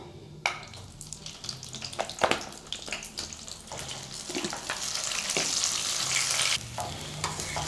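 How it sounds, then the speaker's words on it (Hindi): Potatoes frying in melted desi ghee in a kadai for potato halwa, a steady close sizzle with clinks and scraping as they are stirred, no talk. "घी मेल्ट होने पर इसमें आलू डाल दें"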